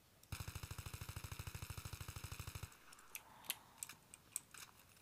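M16 rifle from Battlefield 3 firing a full magazine in one long rapid automatic burst of about twenty-five even shots, loud and close, then the burst stops and scattered clicks and small sounds follow.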